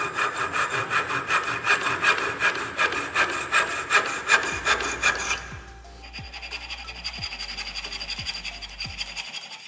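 Hand saw cutting dovetail bevels in wood, a steady back-and-forth rasp of strokes for about five seconds, then a few faint light taps and knocks in a quiet workshop.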